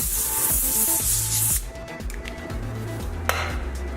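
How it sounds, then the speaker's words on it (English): Cooking oil spray hisses onto aluminum foil in a short continuous burst lasting over a second, close and fairly loud, followed by quieter shuffling and a small tap. "a little spray of some cooking oil"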